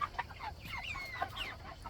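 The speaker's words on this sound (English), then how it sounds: "They are big chickens." Large meat chickens cluck and chatter at close range in a coop, with several overlapping calls and short squawks over a low, steady background hum.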